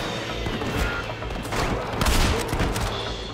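Gunfire crackles in a Red Dead Redemption multiplayer shootout with police, a rapid string of sharp shots and bursts spread across a few seconds, fairly loud and continuous.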